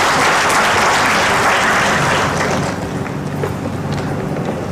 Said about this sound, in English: So I think you need to give a big round of applause to Ejaz also.